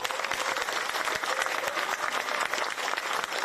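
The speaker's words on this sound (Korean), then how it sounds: "큰 격려의 박수 한번 부탁드립니다" An audience at a farmers' meeting on the grain management act claps steadily in sustained, moderately loud applause with no break.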